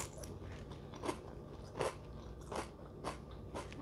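Wavy cheese-flavored chips being crunched, heard as a series of faint, close, crisp bites, about six of them in an even rhythm with quiet chewing between.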